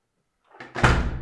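A door of a house in Italy swings and shuts with a solid thud, preceded by a short creak or rustle, close by with no one speaking.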